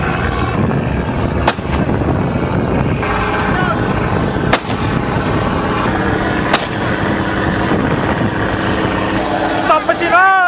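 A boat engine on a marine fisheries patrol roars loudly and steadily throughout, with faint clicks and shouted voices over the continuous rumble.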